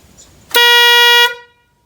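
A car horn wired onto a ride-on lawnmower gives one loud, steady blast of about three-quarters of a second, close by, then cuts off with a short fade.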